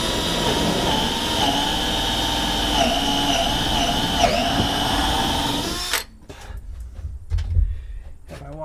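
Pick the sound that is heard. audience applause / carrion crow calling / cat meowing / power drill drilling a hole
power drill drilling a hole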